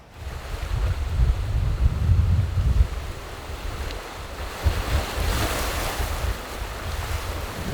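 Pacific Ocean waves break and wash along the shore beside a Hawaii property, a steady rumbling surf with gusts of wind buffeting the microphone and no voices.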